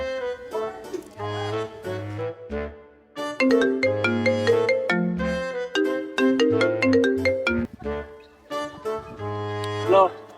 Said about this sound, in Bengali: একটা কাজ করি, জামাইরে ফোন দিয়ে দেখি যে জামাই কই আছে